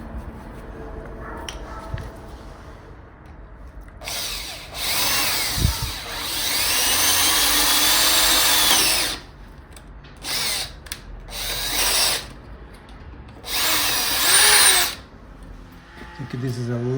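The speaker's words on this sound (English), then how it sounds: "A little bit of cutting oil on the drill bit." A drill bit with cutting oil bores into metal on a milling machine, running in loud bursts of high whine that start and stop several times, with quieter gaps between.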